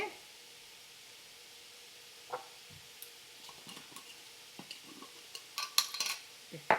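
Onion and tomato frying in a pan for a paalak paneer gravy, with a soft sizzle under scattered metallic scrapes and clinks of a spoon stirring, growing busier and louder toward the end.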